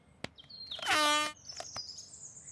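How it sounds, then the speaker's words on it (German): Loud cartoon horn blast from a little red tractor, a single sustained honk about half a second long with rich stacked harmonics, followed by a high squealing whistle-like tone and bird-like chirps. "Vielleicht gefällt meinem grauen Blitz der Ton von dieser Hupe nicht."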